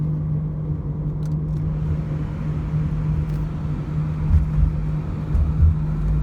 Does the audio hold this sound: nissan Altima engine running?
yes